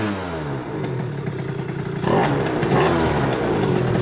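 A warmed-up engine revs quickly and sharply, climbing in pitch, then jumps to a louder, rougher roar partway through, heard up close with no talking.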